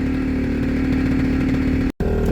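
The small 50cc engine of a Piaggio Ape three-wheeler runs steadily at a buzzing, even idle, loud and close, broken by one abrupt split-second dropout near the end before carrying on.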